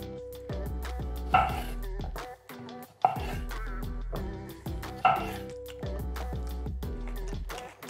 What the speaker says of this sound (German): Dann unsere Cherry-Tomaten auch einfach in Hälften schneiden.